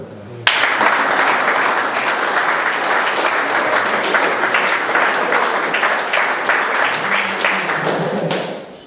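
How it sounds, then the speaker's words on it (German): Loud, sustained applause from an audience honouring a tournament team, starting abruptly and holding steady as a dense wash of clapping for about eight seconds before tapering off. "Da sollte ein extra Applaus, ein lauter Applaus für dieses Team möglich sein."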